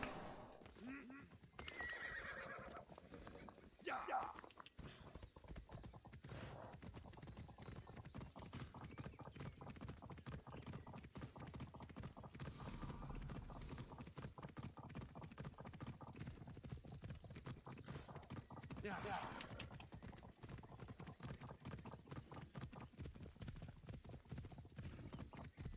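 Horse hooves clip-clop steadily, with whinnies and neighs, through a mounted ride in Assassin's Creed Odyssey, set in the Fields of Elysium DLC, mixed with game music and a voice talking over it throughout.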